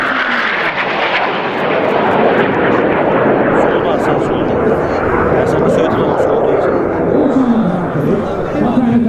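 A jet aircraft from the Turkish Stars aerobatic team roars loudly overhead at an airshow, a broad sustained engine rush that slowly shifts in pitch as it passes, while a commentator speaks over it.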